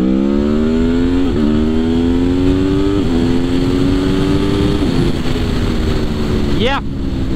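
A 2021 Aprilia Tuono V4 Factory motorcycle accelerates hard through the gears on a road, loud close engine roar rising in pitch with quick upshifts, ending with a sharp high rev.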